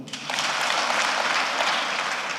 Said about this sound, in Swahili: gieni makofi.